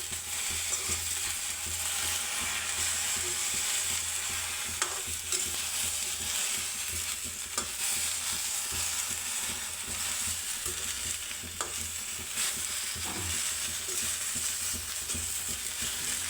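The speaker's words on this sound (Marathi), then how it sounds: "तर चला आपल्या शेंगा आता भाजून." Pods roast over high heat in a thick, heavy jaggery pan, giving a constant dry sizzle and rustle with occasional stirring clicks, close and unbroken, with no voices.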